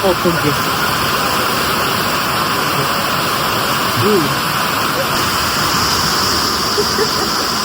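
Steady, dense downpour roars without a break, a broad hiss of heavy rain close by, with faint voices now and then underneath.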